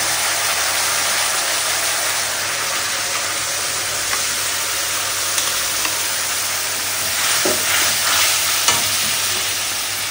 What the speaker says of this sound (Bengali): মশলাটাকে খুব ভালো করে কষাবো।